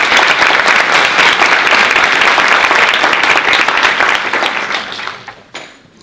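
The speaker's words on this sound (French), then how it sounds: "je voudrais que vous applaudissiez Maître Brice Perrier." Audience applause at a law pleading competition ceremony in France, sustained and loud from a full room of clapping hands, steady for about four seconds before fading out.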